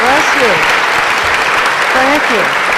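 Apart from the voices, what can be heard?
audience applause for someone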